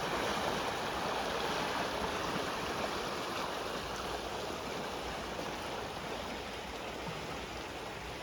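Rock Creek flowing through Snake River Canyon, a steady broadband rush of water close by, constant and unbroken with no voices.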